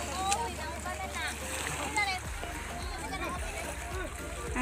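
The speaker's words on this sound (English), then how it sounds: "My nephews over there swimming." Children swim and splash in the water at a beach resort. The splashes and sloshing are fairly faint and at a distance, under steady background noise, and voices talk nearby.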